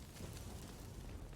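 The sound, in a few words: bomb explosion in Rogue Company video game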